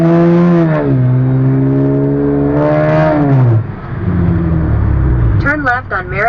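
Engine of a Hummer fitted with aftermarket exhaust pipes revs loudly up and down at a car meet and cruise, a deep rising and falling roar with people talking nearby throughout.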